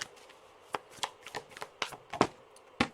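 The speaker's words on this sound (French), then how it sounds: "Je vais tirer une première carte." Soft, close card handling as a tarot card is drawn from the deck: a quiet series of irregular sliding flicks and taps, about a dozen short rustles over three seconds with no voices.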